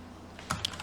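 A Ctrl+Shift+S shortcut is pressed on a computer keyboard: two or three quick, quiet key clicks close by, in the space of a fraction of a second.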